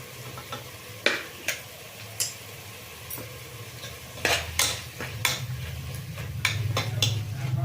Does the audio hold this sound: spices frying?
yes